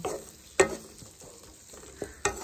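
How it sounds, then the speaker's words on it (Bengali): Prawns and onion stalks with garlic and ginger are stirred and fried in a pan, a steady close sizzle broken by scraping strokes of the spatula and a few louder clacks against the pan. "এটাকেও ভালো মতন একটু কষিয়ে নেব"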